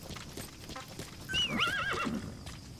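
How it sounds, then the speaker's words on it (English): A horse neighs in the Metal Gear Solid V video game, one clear whinny in the foreground over light background ambience, with faint hoof clip-clop. "Come over here, D-Horse."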